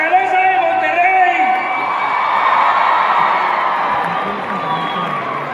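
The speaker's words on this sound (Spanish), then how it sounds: "¡Y que se oiga ese grito! ¡Ese aplauso, pero fuerte!" Concert crowd at the Auditorio Nacional in Mexico cheers and shouts, a loud swelling roar of many voices with whoops and high cries rising over a sustained din.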